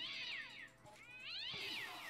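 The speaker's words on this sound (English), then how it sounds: "I don't like the cat sound." A cat meows repeatedly in the Minecraft Crazy Craft mod, with two or three drawn-out, wavering cries that are loud and close, standing alone without talk.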